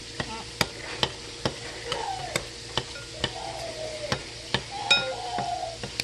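Buttermilk being cut into flour for buttermilk biscuits, a steady series of sharp, evenly spaced ticks and taps from a utensil working through the mixture in a bowl, close and fairly quiet, with no talking.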